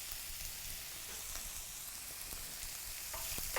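Onions and vegetables frying in a pan with a pinch of salt for cod primavera: a steady, dense crackling sizzle, close and continuous with a few louder pops toward the end, no talking.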